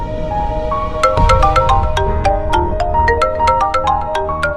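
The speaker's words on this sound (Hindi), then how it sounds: "पार्वती, तुम्हारा फोन आ रहा है" A phone ringtone plays a bright, repeating melodic tune of quick chiming notes, loud and close, with no talking over it.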